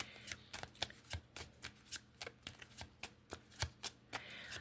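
Cards from an oracle deck being shuffled, a quiet run of crisp riffling slaps and flutters repeating at an irregular pace, close up with no voices.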